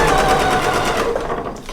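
A sewing machine stitches a quilt fish block with a fast, even mechanical chatter, loud and close, running continuously for under two seconds.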